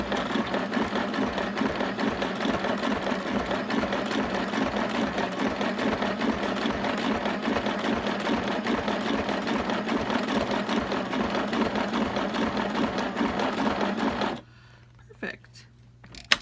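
Sewing machine stitching through the pages of a homemade junk journal, with a fast steady whir for about fourteen seconds before it stops. A few soft clicks follow in near silence.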